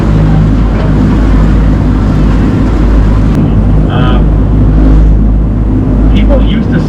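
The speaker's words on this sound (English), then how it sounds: "the rumbling you hear means that our propeller's working" Steady low rumble from a duck boat's propeller and engine on a Boston tour, a continuous loud drone with broadband noise throughout, and a few faint voices and brief tonal bits riding over it.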